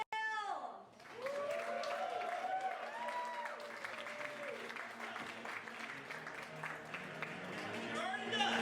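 A studio audience breaks into sustained applause and cheering to welcome comedian Brent Gill, a dense wash of clapping that swells after a brief opening voice and holds steady to the end.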